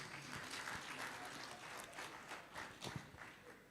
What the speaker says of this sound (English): Can you give him one more round of applause